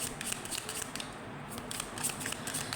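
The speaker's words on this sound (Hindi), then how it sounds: "इसको भी शफल कर लेते हैं।" Tarot cards are shuffled by hand, a quick series of crisp riffling flicks and papery slaps, close and fairly quiet, with no voices.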